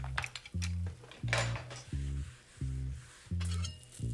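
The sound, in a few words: stirring potatoes in a covered pan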